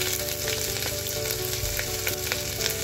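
Garlic, cumin seeds and grated ginger fry in hot oil in a pan, giving a steady, dense sizzle close by with small crackles and pops, and no one talking.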